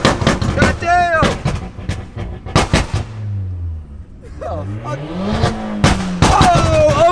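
A Volkswagen Passat with a loud, rumbling exhaust revs and roars past close by, popping and crackling, while people talk excitedly over it.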